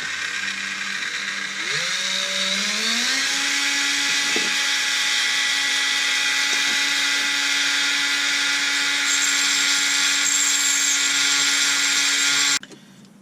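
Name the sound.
diamond bit grinding a bevel on a Husqvarna 272 cylinder port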